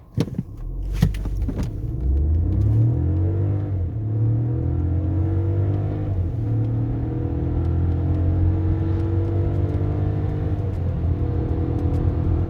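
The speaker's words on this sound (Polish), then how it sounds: "Przyspieszenie do pierwszej setki." 2020 Škoda Scala 1.0 TSI with a 115 hp engine and seven-speed DSG accelerating hard from a standstill toward 100 km/h, engine drone climbing through several smooth gear changes, heard from inside the car.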